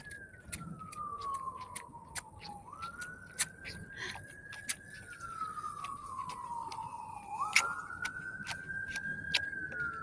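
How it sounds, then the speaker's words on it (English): An emergency vehicle siren wails steadily in the distance, rising and falling in slow sweeps, heard faintly outdoors under sharp intermittent clicks and ticks. "Prayers for wherever that siren is going"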